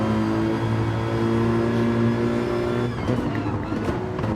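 Race cars, including a Mercedes and a Porsche, lap Watkins Glen in a racing video game. Their engines make a loud, steady drone that turns rougher and more uneven near the end.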